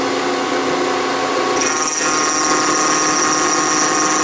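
A milling machine takes a final light cutting pass on a workpiece, a loud, steady whirring grind up close that shifts to a slightly different higher-pitched cutting tone partway through and continues without pause.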